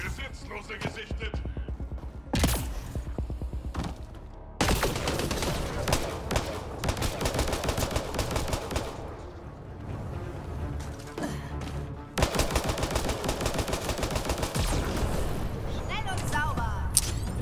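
A pistol fires rapidly in Mass Effect Andromeda during a firefight, with quick repeated shots in several loud bursts and someone talking over the action.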